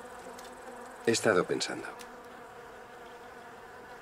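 Bees hum steadily in the background, a soft continuous buzz, while a voice briefly speaks over it.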